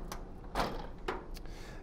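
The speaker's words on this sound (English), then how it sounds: "You squeeze the handle to open the drawer" Paper drawer of an HP DesignJet printer being opened by squeezing its handle, a few short plastic clicks and a soft sliding thud, close and fairly quiet.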